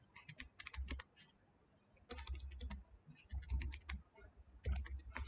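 Quick clattering keystrokes on a computer keyboard as a file name is typed. The taps come in short bursts with a brief pause near the second mark, close and fairly quiet, with no talking.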